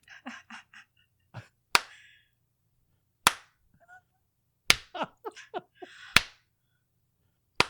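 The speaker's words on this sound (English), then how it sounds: "I'm slow clapping." Slow, uneven hand claps, about five sharp loud smacks spaced roughly a second or more apart, with bursts of other people's speech-like chatter between them.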